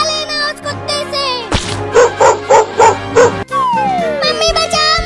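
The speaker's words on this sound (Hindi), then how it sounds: "वो कुत्ता आ रहा है" Cartoon dog barking in an animated cat cartoon, a close, loud run of about five rhythmic bow-wows, with whimpering, yipping and sliding squeaky effects around them.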